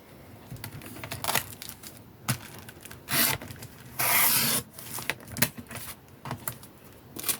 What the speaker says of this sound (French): Je vais couper un tout petit peu pour l'ouverture. Je vais couper de ce côté.